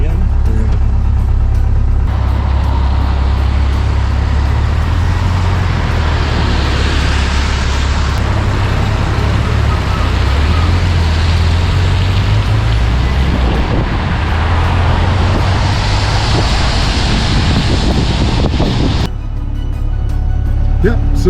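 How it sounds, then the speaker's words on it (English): Constant loud roar of congested Nairobi road traffic heard from inside a stuck 1969 vehicle, low engine rumble and passing vehicles filling the whole stretch, with someone talking over it. "Stuck in traffic, Nairobi traffic as usual."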